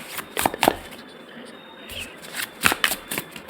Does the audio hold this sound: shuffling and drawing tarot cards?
yes